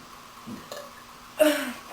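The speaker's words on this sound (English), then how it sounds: "There's one I have to burp already." A woman on a couch lets out a short, throaty burp after a couple of faint throat sounds, close and brief.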